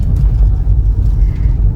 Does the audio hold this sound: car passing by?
yes